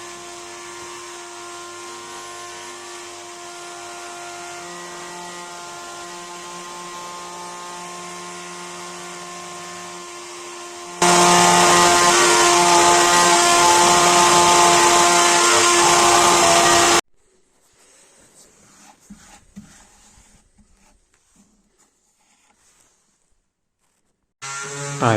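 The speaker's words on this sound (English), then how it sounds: "Then I milled." A wooden board for a clock, screwed into a fixture, is milled by a machine whose steady high whine jumps to a harsh, loud cutting roar midway, then cuts off to near silence with faint clatter.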